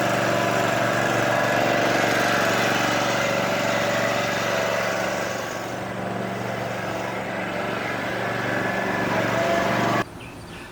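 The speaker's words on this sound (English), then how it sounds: "I'm gonna mow both these commercial lawns" A commercial zero-turn lawnmower's engine runs steadily and loud up close, a constant droning hum that dips slightly midway and then drops in level near the end.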